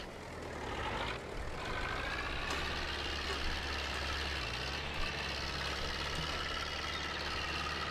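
A slow tractor engine in the Farming Simulator 22 Indian mod runs with a steady low drone and rumble throughout, moderately loud and unbroken.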